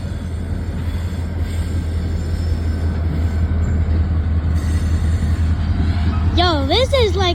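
A freight train passes close by on the tracks at an S-curve in Neenah, Wisconsin, with a steady low rumble of rolling cars and wheel squeal rising near the end.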